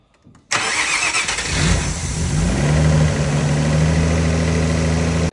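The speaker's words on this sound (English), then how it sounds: "So the vehicle does start and run by just back probing it." A vehicle engine cranks and catches after a brief quiet start, then settles into a steady, loud idle with a low drone, running on a cam sensor circuit fed by an external 5-volt supply.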